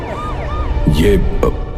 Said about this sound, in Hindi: पुलिस की गाड़ी आकर रुकती है।